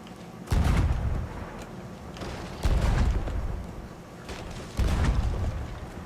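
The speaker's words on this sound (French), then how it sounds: "Tirez les boulettes de canon!" Three heavy cannon blasts from a ship in the video game Sea of Thieves boom at regular intervals, each a sharp thump followed by a rumbling decay, with game ambience in between.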